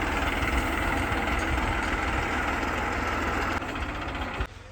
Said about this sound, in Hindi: और इस टाइप का लोड है, ये लोडर है मैसी ट्रैक्टर।